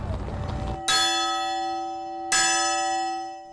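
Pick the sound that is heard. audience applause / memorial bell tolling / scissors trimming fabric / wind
memorial bell tolling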